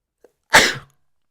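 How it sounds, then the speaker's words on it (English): A single sharp sneeze bursts out close by after a faint short intake of breath, then quiet. "that sneeze came out of nowhere"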